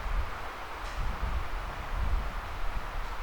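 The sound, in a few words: strong wind in woods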